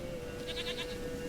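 A goat in the video game The Witcher 3 lets out a single short wavering bleat over steady background game ambience and a sustained tone.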